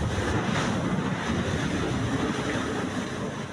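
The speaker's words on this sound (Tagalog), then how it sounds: "rumaragasa sa likod nila ang tubig mula sa water cannon" A China Coast Guard water cannon blasts a powerful jet onto a small wooden boat crewed by Navy personnel, a loud, steady, close roar of rushing water that never breaks.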